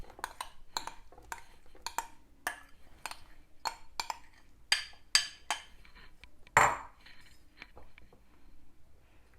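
A spoon repeatedly clinks against a bowl while dry fruits are mixed into Christmas plum cake batter, a steady series of sharp taps with one louder knock near the end, close and without talk.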